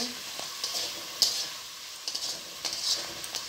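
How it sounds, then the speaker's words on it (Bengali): Onion and tomato paste frying in spices in a pan, a low, faint sizzle broken by short scraping stirs and a couple of sharp clinks, heard close. "এবার মশলায় আমি পেঁয়াজ আর টমেটো বাটাটা দিয়ে দেবো, একটু ভালো করে কষিয়ে নেব।"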